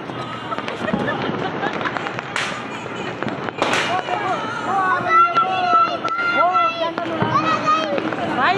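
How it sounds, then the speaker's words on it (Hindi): Diwali firework rockets launching amid a street celebration, sharp whooshing bursts and crackles among lively shouting and talk, with pops and whistles scattered across the busy scene. "जहाँ भी देखो वहीं ये उड़ा रॉकेट"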